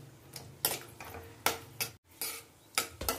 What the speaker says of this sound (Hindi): बस हल्का गुलाबी कलर आने तक ही हमें भूनना है